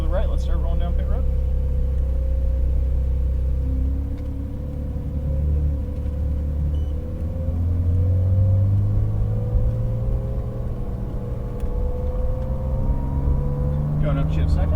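A Porsche 911 Carrera GTS rolls slowly down pit road at Las Vegas Motor Speedway, its engine a steady low rumble that rises and shifts in pitch as it pulls away, with a voice talking over it.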